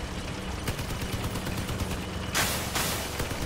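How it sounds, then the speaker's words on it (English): Gunfire from vehicle weapons in the online vehicle-combat shooter Crossout, dense rapid bursts of shots running steadily throughout with a heavier blast near the end, loud and close. "What are you shooting me for?"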